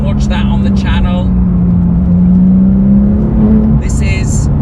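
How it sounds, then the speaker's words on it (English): Porsche 911 GT3 Touring engine droning steadily at a constant pitch, loud and close, with brief talking at the start and near the end. "This car sounds absolutely phenomenal"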